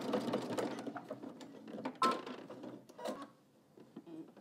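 Sewing machine edge stitching the top of a belt loop, a soft, irregular mechanical chatter of stitching with small clicks and pauses, fairly quiet and close.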